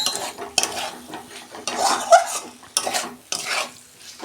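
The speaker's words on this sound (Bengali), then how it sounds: "আমি কপি আলু দিয়ে দিচ্ছি।" Cauliflower and potato are stirred into frying spices in a pan, with repeated scraping stirs and clinks over a steady sizzle.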